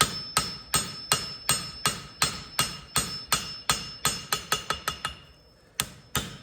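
A farrier's hammer strikes a steel blade in a steady rhythm of ringing blows while forging its bevel, about fifteen hits, pausing briefly before two final strikes.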